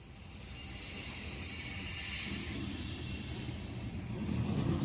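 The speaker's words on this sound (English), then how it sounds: "are grain trains the loudest trains out there?" A grain train rumbles past close by, a broad steady roar of rolling freight cars with a high metallic hiss and squeal of wheels layered over it, holding loud for the full stretch.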